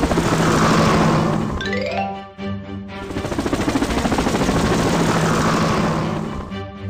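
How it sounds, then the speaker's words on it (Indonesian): A cartoon helicopter takes off, a loud steady whirring rotor drone filling the clip with a short rising tone in the middle, no talk. "Helikopter, berangkat."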